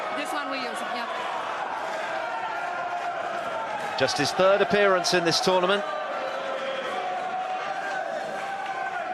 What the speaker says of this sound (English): The crowd are absolutely in a frenzy